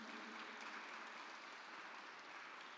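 A church concert audience gives a short burst of applause, an even wash of clapping heard from a distance at low level.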